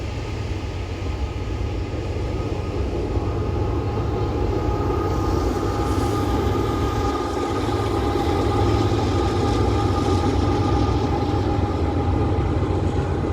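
A train charging toward the Harpursville Trestle, a loud, steady rumble with a droning engine hum throughout and no talking.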